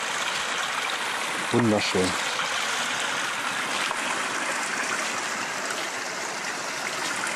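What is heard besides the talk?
stream water flowing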